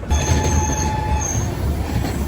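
The Korba–Visakhapatnam express train rushes past close alongside near a locomotive shed, with a heavy rumble, while high metallic wheel squeals ring out over the roar.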